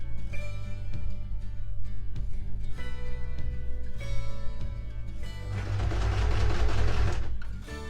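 A sewing machine runs a straight-stitch seam around outer fabric joined to a black lining. The motor hums with a fast rhythmic needle chatter in bursts, then one longer, louder continuous run, close and alone.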